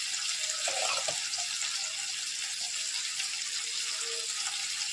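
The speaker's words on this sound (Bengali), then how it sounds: "আমি এবার জল দেবো এর মধ্যে।" Water pours into a pot of vegetarian curry with potatoes and cumin paste, a steady rushing splash that runs unbroken for several seconds, close and moderately loud.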